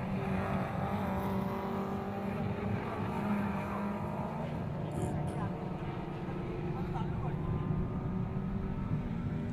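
Subaru Legacy 2000cc race cars circulate on a track, a sustained engine drone with shifting pitch heard at moderate distance beneath a commentator's continuous talk.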